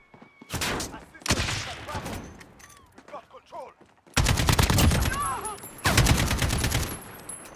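Automatic AK rifle fire in a video game, several loud rapid bursts separated by brief pauses, with shell-like ringing and a voice talking over parts of it.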